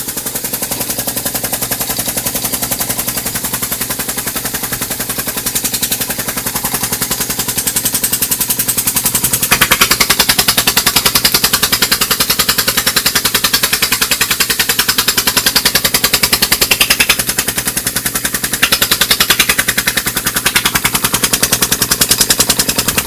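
A small engine driven by compressed air at 60 psi from a tank runs with a rapid, steady stream of sharp exhaust pulses that sounds almost like machine-gun fire, loud and close, with no talk.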